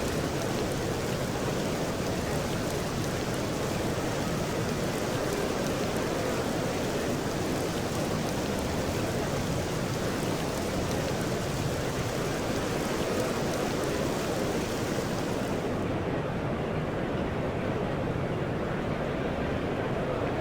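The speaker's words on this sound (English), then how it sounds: "The rain beginning to pour down." Rain pours down during a match in the cricket video game EA Sports Cricket 07, a dense, even hiss of heavy rainfall that holds steady throughout, with no voices.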